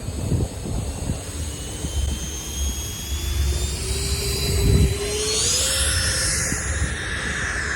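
An E-flite Habu STS radio-controlled jet plane flies overhead with a steady ducted-fan whine that rises in pitch as it throttles up and passes, continuous and fairly loud throughout.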